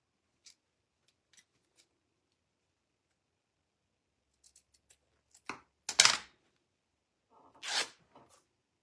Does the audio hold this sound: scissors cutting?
yes